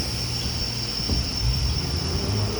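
Industrial board sander in a factory sanding lumber top and bottom through rough then finer grit, a steady machine drone with a high whine and low rumble throughout.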